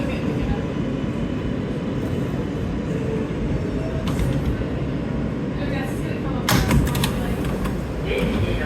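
An NYC subway train idles and rumbles at Graham Avenue station on the L line, with a steady low platform drone, a few door and mechanical clatters near the end, and a recorded voice announcing over it.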